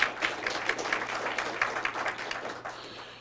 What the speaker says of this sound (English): A round of applause to make her welcome,